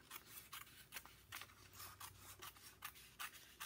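Scissors make rhythmic snipping strokes as they cut up through craft paper for a woven placemat, each crisp cut close and distinct, with no talking.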